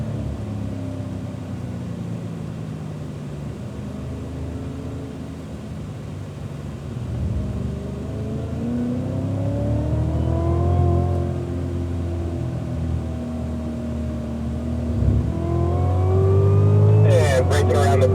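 A Cadillac CTS-V race car laps Circuit of the Americas, its engine droning and rising in pitch as it accelerates, dipping under braking into corners, loud and constant from onboard, with a voice talking over it.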